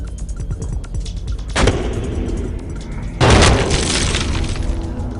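Gunfire erupts in a movie scene as two loud, close blasts, each followed by crashing, shattering glass and lingering debris noise.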